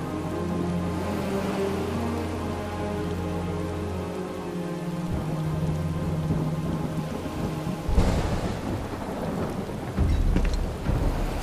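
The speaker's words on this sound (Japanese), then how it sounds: "すごい雨だな。" Heavy rain pours steadily in Final Fantasy VII Rebirth with rolling thunder rumbling underneath, and a louder crack of thunder breaks in near the end. No one speaks.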